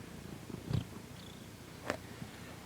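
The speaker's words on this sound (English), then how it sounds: "Yeah, and he's purring." A cat resting under a Christmas tree purrs softly, a faint, low, continuous rumble heard close up in a quiet room, with a couple of small bumps and rustles over it.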